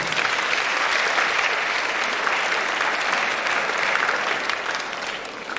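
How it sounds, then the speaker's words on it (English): Sustained applause from a large audience, steady and dense clapping throughout, tapering slightly at the very end. "Give them a round of applause again."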